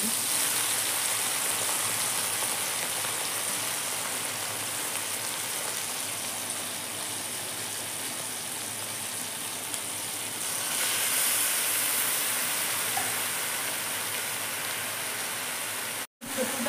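Desi mushrooms frying in hot oil, a loud, steady hiss and sizzle that runs throughout, swelling slightly partway through before a brief cut near the end.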